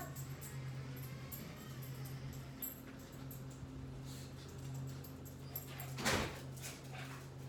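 A dog whimpers softly over a steady low hum, with a brief louder burst of noise near the end.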